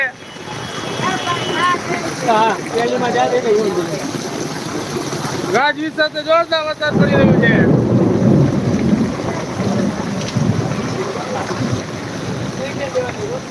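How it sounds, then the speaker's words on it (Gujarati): Heavy rain pours in Khambhalia with steady thunderous rumbling and wind buffeting the microphone, loud and continuous, while a voice briefly speaks over the downpour. "ખંભાળિયામાં જોરદાર વરસાદ છે"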